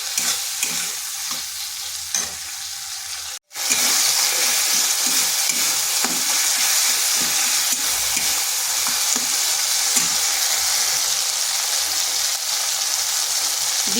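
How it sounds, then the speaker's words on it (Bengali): Ginger and spices sautéing in a hot pan for a vegetarian potato and eggplant bhuna, a steady loud sizzle with scraping stirs throughout, briefly cut off near the start before resuming. "এটাকে একটু কষে নিচ্ছি যাতে আদার কাঁচা যে গন্ধটা সেটা চলে যায়।"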